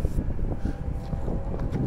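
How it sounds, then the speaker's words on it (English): Wind blowing outdoors beside railroad tracks near a golf course, a steady low rumbling buffet of gusts against the microphone, continuous and moderately loud, with no voices. "A little bit windy right now."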